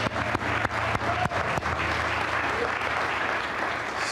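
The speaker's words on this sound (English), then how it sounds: "Let's have another round of applause for our student speakers." Audience at a city of Boston scholarship ceremony applauding in a steady, dense round of clapping that carries through the whole stretch, indoors, with a few sharper claps standing out near the start.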